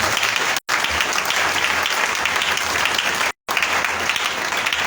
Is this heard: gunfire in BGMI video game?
no